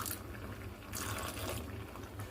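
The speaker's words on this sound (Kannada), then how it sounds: "ಇದಕ್ಕೆ ಹಾಲು ಹಾಕೋಣ ಸ್ವಲ್ಪ" Milk poured into a pot of payasam, a steady liquid splash and trickle with a brief louder surge partway through, close by.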